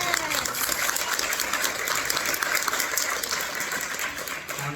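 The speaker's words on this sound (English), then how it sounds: "Give a round of applause for Mark." A crowd at a civil liberties conference panel applauds with a continuous, hissing wash of clapping that holds steady at moderate volume and fades slightly at the end.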